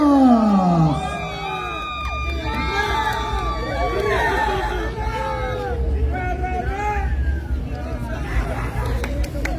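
A large crowd at a huaylash dance contest final cheers, whoops and shouts continuously, loud and close, with overlapping voices forming a dense roar.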